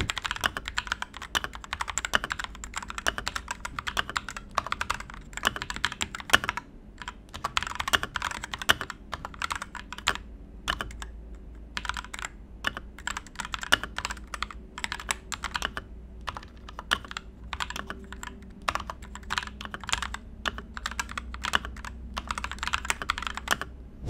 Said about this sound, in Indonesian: Udah dengar nih typing sound testnya ini?